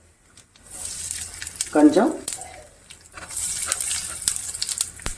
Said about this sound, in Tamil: கடுகு வெடிச்சாச்சு